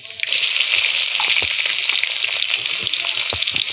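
Onion and tomato with curry leaves sizzle loudly in hot oil, a steady close crackling hiss with a few soft stirring knocks underneath.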